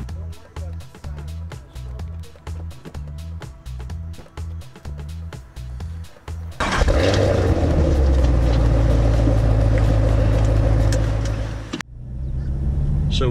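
Intrepid carbon fiber powerboat on the water with a 7 Marine motor opens up with a loud, sustained engine roar and rushing water, following a stretch of rhythmic idle pulsing under talk.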